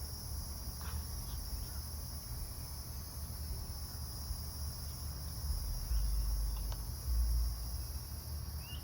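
Crickets chirp steadily in a continuous high-pitched drone, with faint low background rumble and no voices.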